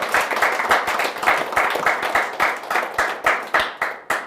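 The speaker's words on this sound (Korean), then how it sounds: "우리 하늘 앞에 감사의 박수를 올려주시기 바랍니다" An audience at a special prayer gathering claps in a loud, fairly rhythmic burst, with the hand claps close and distinct and swelling and easing in pulses without any talk.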